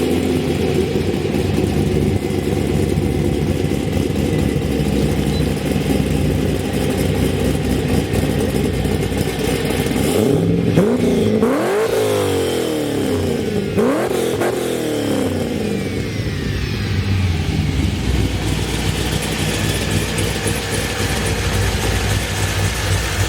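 A 2006 Corvette ZR6X sports car V8 engine, loud and close, idling and then revving hard twice in rising and falling sweeps around the middle, with a steady rumble before and after and no talking.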